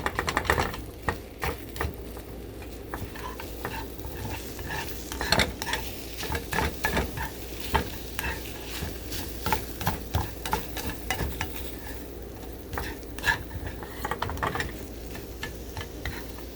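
Eggs cooking in a pan, a soft background sizzle punctuated by rapid irregular clicks and taps of a utensil against the pan, fairly quiet and without talk.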